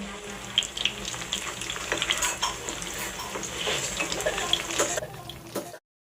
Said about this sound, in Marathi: वडे छान तांबूस रंगावर येईपर्यंत दोन्ही बाजूनी मस्त व्यवस्थित खरपूस होईपर्यंत तळून घ्यायचे आहे